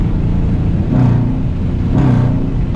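A 2019 Dodge Charger R/T with an aFe cold air intake revs lightly while driving with the windows down. A loud, close, deep engine drone swells twice over steady road rumble.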